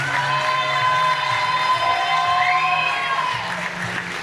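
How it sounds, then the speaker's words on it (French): Audience at the Miss Villeneuve d'Ascq 2023 pageant cheering and clapping for the contestants: a dense, continuous roar of crowd noise that holds steady throughout. "un tonnerre d'applaudissements pour ces merveilleuses jeunes filles, s'il vous plaît"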